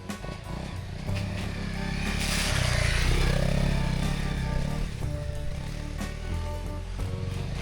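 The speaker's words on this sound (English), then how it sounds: "The vibrations of this bike is so much smoother than the 400." An old Honda XR dirt bike engine drones steadily while being ridden, a loud close motor hum that swells midway with rattling and wind noise, no voices.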